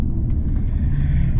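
Heavy low rumble of passing road traffic as heard from inside a leveled Toyota Tundra on 22x12 wheels and 33-inch tires, a loud continuous engine and road drone over a short moment.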